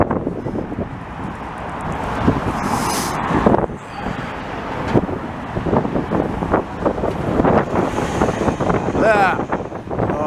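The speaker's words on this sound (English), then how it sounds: "the wind's coming from the east" Wind buffets a microphone outdoors while someone walks along Cote de Liesse Boulevard in Montreal's Town of Mount Royal, steady loud rumbling gusts over passing road traffic, with speech heard intermittently.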